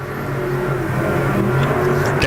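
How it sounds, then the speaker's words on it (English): IMCA Modified race cars roar around the Arizona Speedway oval during a heat race, a loud, sustained engine drone that swells slightly as they pass, with no clear talk. "Still going to be a drag race down the back straightaway into turn number 3."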